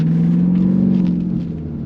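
A Jeep Grand Cherokee Trackhawk with all-wheel drive idles and rumbles with a deep, steady engine drone heard from close by, loud and even throughout without any speech.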